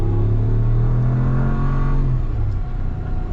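A 2022 Ram 1500 Rocky Ridge K2 pickup accelerates with a loud, close engine roar that rises in pitch and then eases off, steady and without voices.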